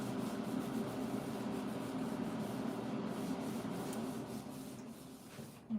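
Steady rubbing of glued scrapbook pages pressed together by hand, a continuous close scratchy friction that eases slightly toward the end, with no talking.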